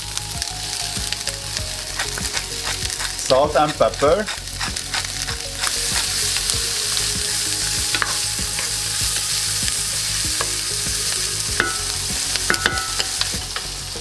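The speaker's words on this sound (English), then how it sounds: "I love it when I hear this sound, the sizzling sound." Steak and peppers sizzle and sauté in a hot pan, a steady close frying hiss running throughout, with a short burst of stirring and a brief spoken line partway through.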